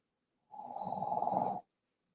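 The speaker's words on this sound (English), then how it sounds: "That's my mom's dog, snoring." A dog snoring close by indoors, one long rasping inhale lasting about a second with a steady rattling buzz, alone in an otherwise quiet room.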